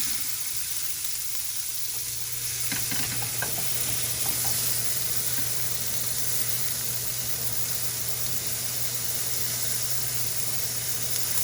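Food browns in a hot skillet with a steady sizzle and frying hiss lasting throughout, a few light clinks of stirring near the start, no voices.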